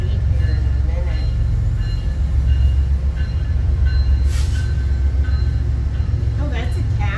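A freight train hauling iron ore climbs out of Galesburg, Illinois, with a heavy, continuous low rumble and grinding wheels. It is loud and close throughout, with people talking over it now and then.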